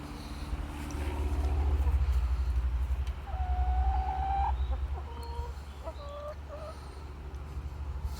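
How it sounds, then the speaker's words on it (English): A hen perched on a garden swing gives soft clucks and a few short rising calls, close by, over a low steady rumble of background traffic. "Chicken is on the swing."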